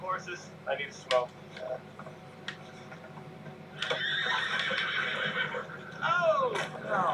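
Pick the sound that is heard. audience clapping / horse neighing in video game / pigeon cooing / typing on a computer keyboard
horse neighing in video game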